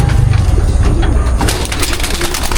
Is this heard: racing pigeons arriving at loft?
yes